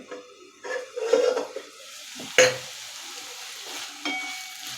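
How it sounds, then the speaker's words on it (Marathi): A lid comes off a pan of softened cooked vegetables for poha, followed by a few scraping stirs and a metallic clink, with quiet gaps and a gentle sizzle underneath. "आता आपण याच्यावरचं झाकण काढूया"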